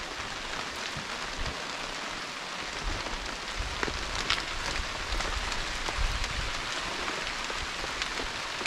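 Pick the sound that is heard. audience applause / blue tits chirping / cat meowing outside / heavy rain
heavy rain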